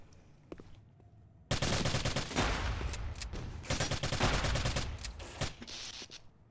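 Shotgun blasts in a competitive video game match, with a single shot followed by a loud, dense, sustained burst of rapid gunfire that fills most of the clip without talk.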